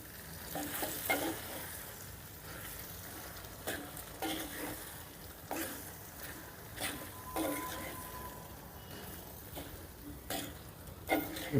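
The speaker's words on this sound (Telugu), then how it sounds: "ఇప్పుడు ఈ మొత్తాన్ని ఒకసారి బాగా కలిపేసుకుందాం" A vegetable curry with green chillies and salt is stirred in a pan, and a spoon repeatedly scrapes and clacks against the metal over a soft, low sizzle.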